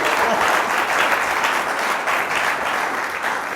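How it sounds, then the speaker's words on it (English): An audience at a talk show claps after a musical performance, giving a thick, steady burst of applause that stays loud and even throughout. "And now you can clap."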